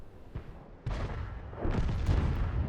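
World of Tanks cannon shot, a sharp heavy boom followed by a rumbling impact and ongoing engine and battle noise, fairly loud with no talking.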